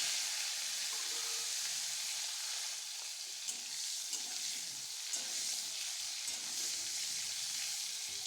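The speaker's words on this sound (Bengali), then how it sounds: "এবার আমি এই তেলের মধ্যেই ফুলকপি ভেজে নেবো" Cauliflower florets frying in hot oil left over from frying koi fish, giving a steady, close sizzle with light crackle that holds evenly throughout, no talking.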